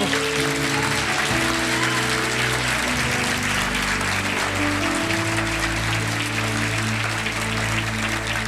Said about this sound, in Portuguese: É uma salva de palmas para o Rei bendito